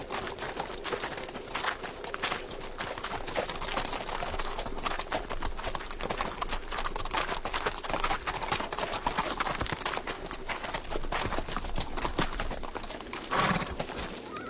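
Tired horses walk with a steady, dense clip-clop of hooves, close and continuous throughout, with no voices.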